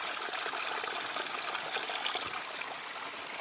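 Water trickles and gurgles out from among rocks and roots on a mountain slope, a steady close flowing wash with no talk.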